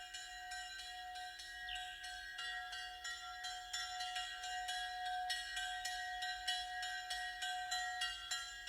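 A hand bell rung by its clapper striking different faces, giving three distinct ringing notes in a steady repeating pattern, bright and sustained with overlapping resonance and no voices.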